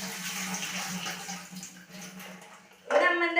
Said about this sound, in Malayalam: ഞാൻ വെള്ളം കളയട്ടെ